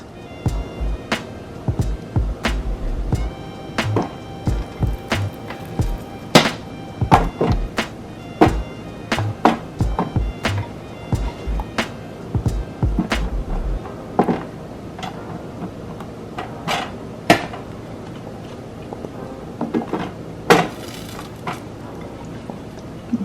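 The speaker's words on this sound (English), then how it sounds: "I'm adding to the pan 4 potatoes and 2 carrots." Chunks of potato and carrot drop into a pot roast pan one after another, making a long series of irregular thunks and taps near the microphone with no talk.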